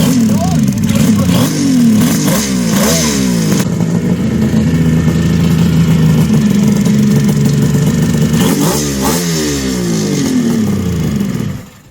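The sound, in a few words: Kawasaki H2 motorcycle engine revving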